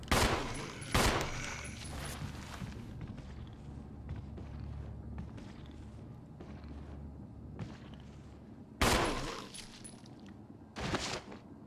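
Gunshots aimed at a zombie in the video game Resident Evil HD Remaster: a few sharp, loud shots, two close together at the start and two more near the end, each with a booming tail over quiet game ambience.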